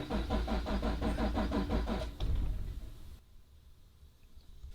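Corvette Z06 with engine modifications cranking on a salvage auction lot: a steady rhythmic starter whir with repeated pulses for about two seconds, a brief catch, then the sound drops away into quiet.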